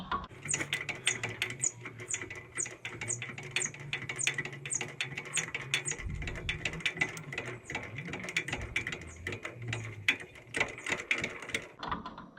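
A jack ratchets steadily while lifting a wheel on an Oliver 70 tractor, a continuous run of close, rapid clicking pawl strokes with a low mechanical hum and occasional heavier creaks underneath.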